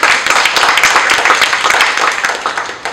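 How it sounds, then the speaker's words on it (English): A crowd claps loudly and close, a dense and continuous patter of many hands that holds steady for a few seconds. "You can clap to that."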